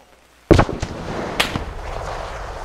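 Frag grenade explosion in a military video game, a sudden loud close boom followed by a couple of smaller cracks and a lingering rumbling tail.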